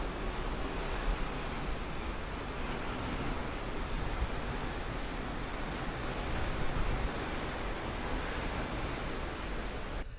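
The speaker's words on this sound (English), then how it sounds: "I could just sit here and watch the ocean go by for hours and hours" Ocean water rushes past the side of the MSC Divina cruise ship, heard from a cabin balcony as a steady, soft broadband wash of waves mixed with wind, with no talk.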